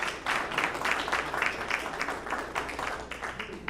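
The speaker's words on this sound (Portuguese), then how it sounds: "Un aplauso para todos." Applause from an audience at a Spanish- and Portuguese-language conference session on democracy and environmental education, a fairly loud, uneven clapping that swells and fades over a few seconds, with some crowd murmur mixed in.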